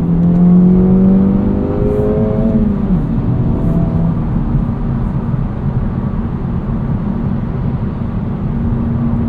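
A 2024 Acura Integra Type S cruising at highway speed on rough Michigan roads, with steady broadband road and tire roar from Michelin PS4S tires and a low engine drone, loud and continuous, with a faint rising whine early on.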